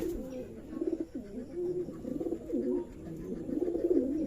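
Giribaz pigeons at a pigeon farm in Shibganj, Chapainawabganj coo in a loft. The low, throaty calls rise and fall continuously, close and overlapping.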